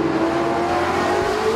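Race cars roar around a Gold Star Racing Grand Nationals track amid lap traffic, a steady loud wall of engine drone with harmonic whine, several cars running close together without pause.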